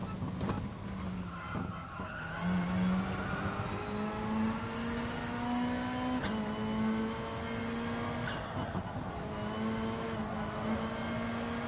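A race car in a driving game accelerates out of a corner, its engine note climbing steadily in pitch through the gears with brief tyre scrub, loud and close throughout.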